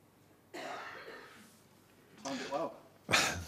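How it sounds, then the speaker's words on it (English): A single audience member at a snooker match coughs and clears the throat, a few short harsh bursts in a quiet hall, close and distinct against near silence. "when you got a cough, you got a cough, but it was just as he was about to deliver the cue there"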